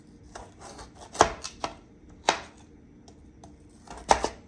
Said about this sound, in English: So I have my potatoes all cut up